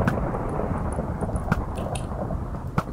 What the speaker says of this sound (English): It's a storm. That's why it's so dark.